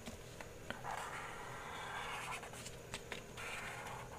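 A marker scratches and squeaks softly across a surface as numbers are written, faint, close-up strokes under a steady background hiss, with no talking.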